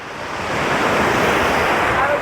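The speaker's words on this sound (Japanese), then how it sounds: "波とともに" Waves break on the Black Sea shore at a resort in Georgia, a loud, continuous wash of surf that swells and holds, with some wind noise on the microphone.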